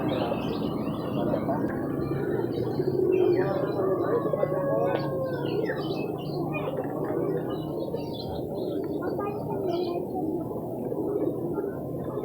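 Contest songbirds at a crowded bird market, many scattered chirps and tweets over a dense murmur of background crowd noise and voices.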